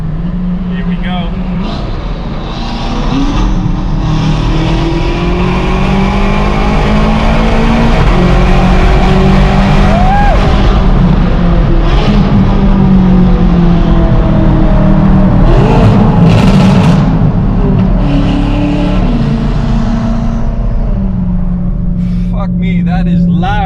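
A Ferrari 458 engine roars loud and close as it accelerates through a tunnel, rising and falling in pitch with gear changes under steady road and wind noise, with no talk.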